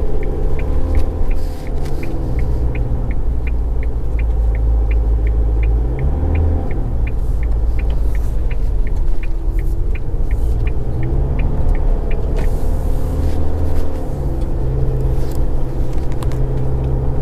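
A 2023 Isuzu D-Max X-Terrain pickup climbing the Genting road, a loud steady low engine rumble and road drone filling the cabin, with a faint regular ticking like an indicator, no speech.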